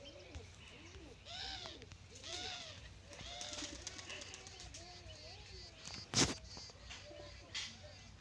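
Soft, repeated cooing of pigeons being fed fills the background, with one sharp broadband burst partway through and a voice speaking over the birds.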